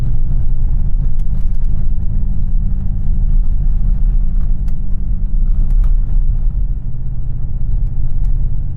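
A vehicle drives an off-road trail through a pine forest on the Moab Adventure Trail, its engine a steady loud low rumble with occasional faint knocks and rattles from the rough ground.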